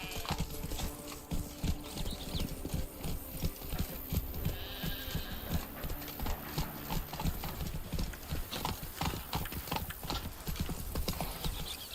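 Roach, the horse in The Witcher 3: Wild Hunt's Blood and Wine expansion, clip-clops along at a steady riding pace, continuous rhythmic hoofbeats close by with faint background game ambience.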